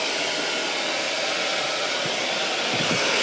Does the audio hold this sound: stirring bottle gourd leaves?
no